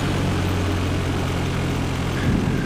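A Cessna 172 engine in the Prepar3d flight simulator is throttled back, a steady droning propeller hum that holds loud and even with a slight shift near the end.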